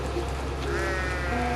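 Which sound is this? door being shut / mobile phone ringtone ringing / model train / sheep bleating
sheep bleating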